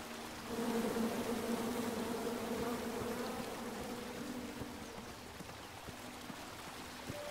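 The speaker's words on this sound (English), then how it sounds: "Come at me, bees!" A steady, close swarm of angry bees drones in King's Quest, a continuous buzzing hum with no talk.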